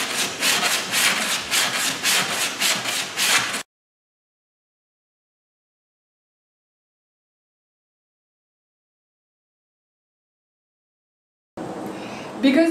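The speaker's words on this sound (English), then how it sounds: "I'm gonna use some sandpaper to make everything smooth." Sandpaper rubs over a drywall patch in a wall hole, with about ten quick, even back-and-forth strokes up close, then silence, then a little more scraping.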